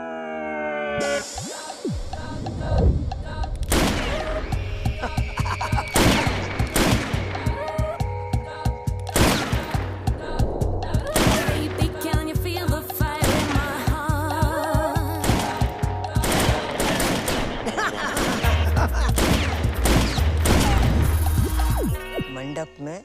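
AK-47 gunfire in a Bollywood wedding scene, with loud, sharp shots cracking irregularly over a dense bed of film music and raised voices, then continuing through to the end.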